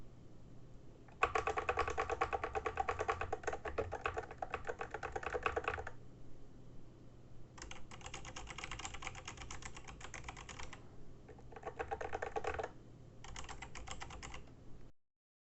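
Steady, rapid typing on an AttackShark X68HE magnetic mechanical keyboard in several bursts separated by short pauses, crisp clicky keystrokes close up.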